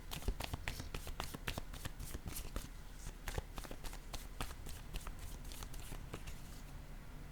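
Tarot cards shuffled and drawn, a continuous quick riffling flutter of card edges with rapid snapping slaps, close and fairly quiet, no voices.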